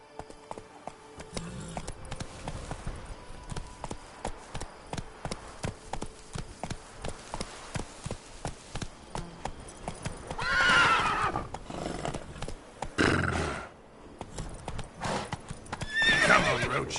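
Roach, Geralt's horse in The Witcher 3: Wild Hunt, gallops with a rapid, even run of hoofbeats, then whinnies loudly twice near the end as the pace breaks; no speech.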